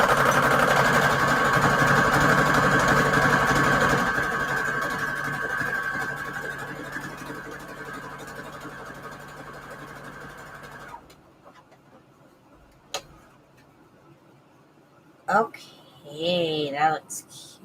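A sewing machine runs a honeycomb stitch on fabric, droning loud and steady for about eleven seconds and slowing toward the end before stopping, followed by quiet handling and someone speaking briefly.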